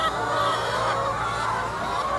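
Free-range laying hens cluck and murmur in a pen on a Thai school farm, a continuous flock chatter of overlapping soft calls at moderate distance with no talking.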